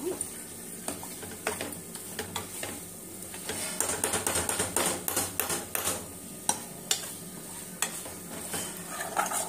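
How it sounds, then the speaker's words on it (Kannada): Garlic chicken roast fries in a pan with a low sizzle as a spoon scrapes and stirs it in quick, repeated strokes that grow more regular toward the end. "ಇದಾಗಿ ಚೆನ್ನಾಗಿ ಫ್ರೈ ಮಾಡ್ಕೊಳ್ಳೋಣ."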